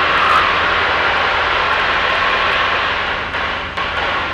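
Skyfox Gazelle light aircraft engine in cruise flight at about 70 knots near Goulburn, a loud, steady, close droning roar that fills the whole stretch without any talking.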